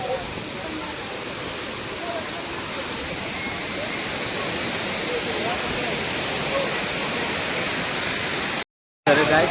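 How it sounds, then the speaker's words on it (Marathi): Savdav waterfall in the Konkan region of Maharashtra roars in a dense, steady wash of rushing water, close and loud, with faint voices beneath before a brief cut near the end. "एक नंबर धबधबा आहे"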